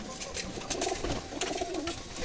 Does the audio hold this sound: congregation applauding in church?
no